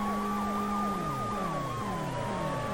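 An ambulance siren from the PS1 police-chase video game World's Scariest Police Chases wails steadily with rising and falling electronic sweeps, loud and continuous throughout, with no talking over it.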